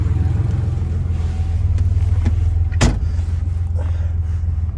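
A 1986 Porsche 911 Turbo-look Targa on a test drive, its engine droning steadily and close with a loud low rumble, broken by a few brief clicks and one sharp knock midway.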